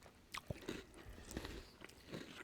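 Crunchy chocolate cereal, Count Chocula, chewed close up, with a few crisp bites and soft crunching spread unevenly across a short, quiet stretch.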